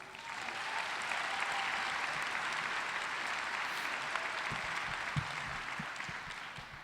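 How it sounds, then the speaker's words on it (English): Sustained applause from a graduation audience for the class of 2021 at Salpointe Catholic, a steady wash of many hands clapping together with no voices over it. "Give them a round of applause."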